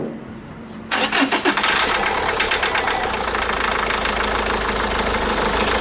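A Renault Megane 1.5 dCi diesel engine cranks and starts after a second of quiet, then settles into a steady, loud idle carrying a faint irregular knock.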